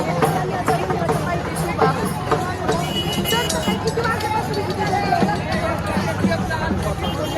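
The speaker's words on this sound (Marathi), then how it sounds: "इथे भाविकांनी मोठ्या प्रमाणात दर्शनासाठी इथे गर्दी केली" A large, dense crowd of devotees fills the Yedeshwari temple during the Chaitra Purnima fair, a steady, close murmur of many voices with constant movement and chatter.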